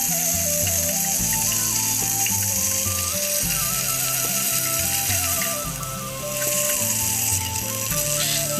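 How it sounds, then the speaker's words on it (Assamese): Magur fish frying in oil on a tawa, partly covered with a lid, producing a constant crackling sizzle beneath background music that dips briefly near the end. "মই মাছ এই টাৱাত ভাজিলে প্ৰথমতে অকণমান ঢাকি দিওঁ"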